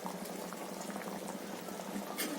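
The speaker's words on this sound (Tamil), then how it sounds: "நல்லா கொதிக்கட்டும்." A pot of chickpea and eggplant tamarind curry boiling on a stove: a steady, dense bubbling and simmering hiss, close and continuous, with no talk over it.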